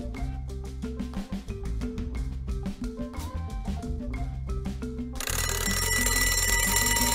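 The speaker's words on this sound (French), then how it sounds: "Mais il va pas s'éteindre ce réveil" An alarm clock rings in a bedroom in the morning, a busy repeating electronic ringing pattern over several seconds that switches abruptly to a denser, harsher buzzing tone near the end, with no voices.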